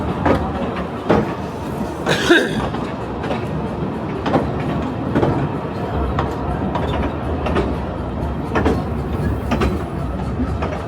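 A train rumbles steadily along the tracks, with a continuous rolling roar and occasional rhythmic clacks of wheels over rail joints.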